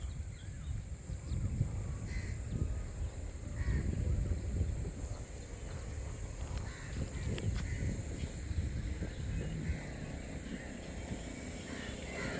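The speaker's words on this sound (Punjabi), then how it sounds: "ਕਾਂ ਨੂੰ ਵੀ ਕੈਚ ਕਰ ਲੈਂਦੇ ਆ" Crows caw outdoors during a morning walk along a village road near Jalandhar. Scattered harsh calls come from moderate distance over a steady wash of wind, traffic and ambient rumble.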